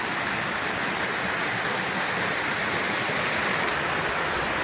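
River water rushes down the rocks at Ezharakund waterfall in Kerala, a steady, dense roar of falling water that stays even and unbroken throughout, with no voices.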